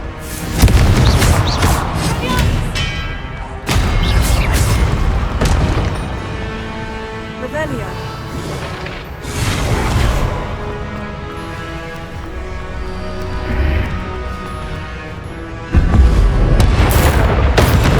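Confringo blasting spells in Hogwarts Legacy burst as repeated heavy booms, several loud explosions with rumbling tails spread across a busy combat soundscape, with voices heard between them.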